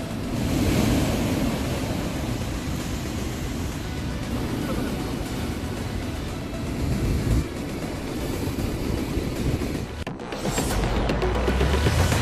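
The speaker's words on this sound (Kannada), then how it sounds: "ಅರಬ್ಬಿ ಸಮುದ್ರದಲ್ಲಿ ಅಲೆಗಳ ಅಬ್ಬರ ತೀವ್ರಗೊಂಡಿದೆ." Rough Arabian Sea surf pounds the eroding Karnataka coastline with a dense, continuous roar, heavy wind buffeting the microphone, and a short break near the end before the surge returns.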